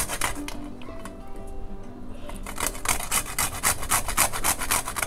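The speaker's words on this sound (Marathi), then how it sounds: "तर मी थोडंसं जायफळ किसून घालते" Nutmeg is grated for mung dal laddoos, making close, rhythmic rasping strokes that start sparse and quicken into a steady scraping run in the second half.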